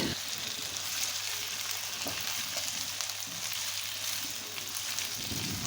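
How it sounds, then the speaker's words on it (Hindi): Steady crackling sizzle of potatoes and onions frying in hot oil, continuous and close, with a low hum underneath and no talking. "इनको अच्छी तरह से फ्राई करेंगे"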